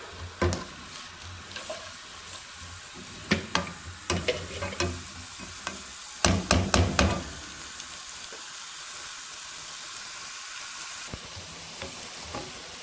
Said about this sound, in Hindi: अभी हम इसके अंदर डाल देंगे प्याज, प्याज को जी हमने पकाना है लाइट ब्राउन होने तक।